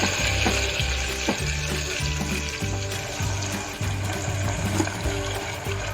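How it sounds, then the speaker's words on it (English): Onion paste sauteing in a pan for mutton korma, a steady broad sizzle with scraping stir strokes throughout, close and moderately loud, with no talking. "Now we need to add 1 medium size onion paste and saute very well"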